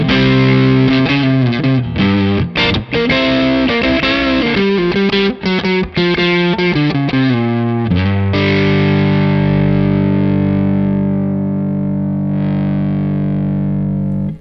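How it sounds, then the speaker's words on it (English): A loud electric guitar runs through a compact Diamond overdrive pedal set to higher gain with active bass and treble. It plays chugging chords and quick riffs, then lets a final chord ring out and fade. "Let's try some higher gain settings and really sculpt the sound with those active bass and treble"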